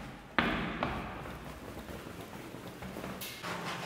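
Rain falls near an untouched waterfall in Manali as a steady, soft hiss, with a few sharper taps and thumps of drops hitting a nearby surface.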